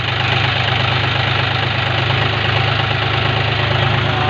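A tractor engine rumbles steadily and loudly at close range, a constant low drone with no pauses and no voices.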